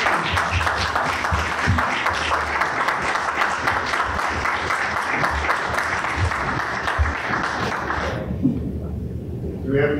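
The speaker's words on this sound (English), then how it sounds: "I want to give this panel just a round of applause" A panel discussion audience gives the panel a round of applause, a dense, steady wash of many hands clapping for about eight seconds before it cuts off to a quiet room.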